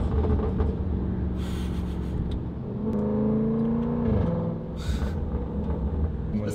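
Range Rover SVR with a supercharged 5-liter V8 and Valvetronic titanium exhaust rumbles at idle, then revs up in a rising, droning pull before settling back to a low burble.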